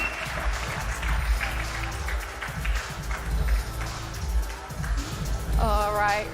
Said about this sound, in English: please give a round of applause for our Tissot Pole Prize winner